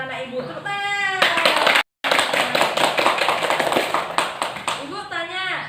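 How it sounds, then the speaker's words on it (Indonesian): A group of children clapping in quick rhythmic bursts in a classroom, loud and close, alongside excited young voices, with a brief silent gap midway. "Tepuk tangan."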